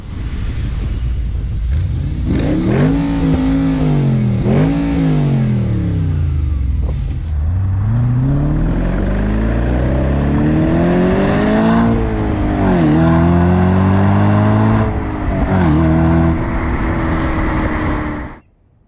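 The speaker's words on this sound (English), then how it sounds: "6-speed V8 and that magical whine" A 6-speed Audi B7 RS4 V8 pulls through the gears from inside the car, its engine note and whine rising and dropping with each shift, loud and close throughout with no radio playing.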